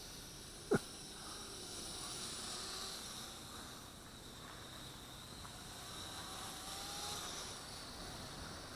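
Eachine H8C mini camera drone in flight, a steady high-pitched motor whine that holds at an even, moderate level throughout, with a sharp click near the start.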